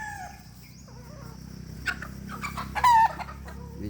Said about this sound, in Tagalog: Sweater pullet number 2